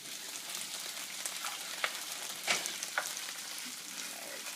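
Green beans fry in a pan with a dense, steady sizzle throughout, broken by a few sharp clinks of stirring, close and loud, with no voices.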